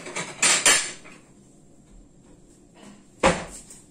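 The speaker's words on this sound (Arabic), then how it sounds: "دونك نجبد الصحن" A plate drawn out of a kitchen cupboard before cooking stuffed sardines, giving a few close clattering knocks of crockery and cupboard at the start and another sharp clack near the end, with quiet gaps between.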